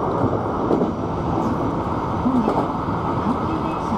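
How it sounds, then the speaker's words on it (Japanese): A Hankyu Kyoto Line limited express train runs on a straight elevated track, giving a steady, close rumbling roar throughout while someone narrates over it. "列車はまっすぐな高架線を快調に飛ばしていきます"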